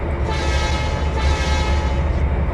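A train moving in the Trainz 2022 simulator game rumbles steadily with a loud, continuous low engine drone and rolling noise, unbroken across the moment with no talk over it.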